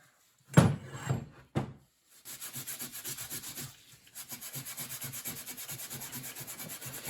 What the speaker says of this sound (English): Get the old Scotch-Brite here.